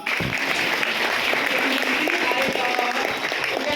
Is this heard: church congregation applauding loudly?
yes